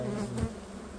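Honeybees buzz around an open beehive, a short, close, steady drone of insect wings with no voices.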